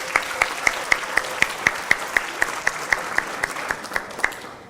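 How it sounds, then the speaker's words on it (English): Applause at a gala dinner, heard as a steady, evenly spaced rhythmic clapping of about twenty beats over a soft crowd wash, like a clap-along. "Big round of applause for Sister"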